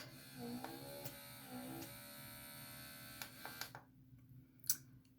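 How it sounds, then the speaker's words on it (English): A small handheld pore vacuum suction device hums steadily on facial skin, a close electric buzz that runs for several seconds before cutting off, followed by a couple of faint clicks. "one of these little guys that actually kind of vacuums and sucks"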